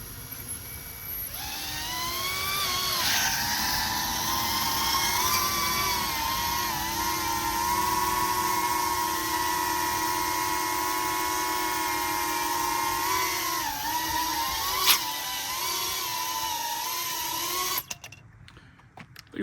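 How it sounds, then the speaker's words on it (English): A freshly built Quadmula DJinn25 FPV drone hovers close by, giving a steady high-pitched whir of small propellers and motors with gently wavering pitch that holds for most of the time, then cuts off near the end. "Do a little hover test right here so you can see about how loud it is."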